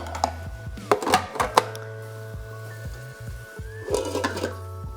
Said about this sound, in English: So while your onions are cooking,